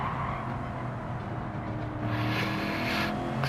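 Race car engine in a racing game, steady mechanical drone that shifts in pitch partway through as the car drops down a gear, with the tone brightening slightly afterward.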